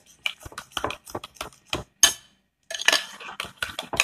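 Chicken macaroni salad being stirred in a bowl, with quick clinking and scraping taps of a utensil against the dish in uneven bursts, close and fairly quiet, broken by a short pause.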